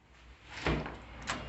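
A door at a music center building opens with a soft scrape and a clunk about halfway through, followed by a second lighter knock, close by with no talking.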